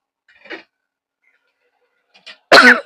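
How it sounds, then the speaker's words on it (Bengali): A single loud, harsh cough bursts out near the end, after near silence broken only by a faint brief sound, in a home kitchen while cooking. "কি জানি কাশি লাগছে কেন"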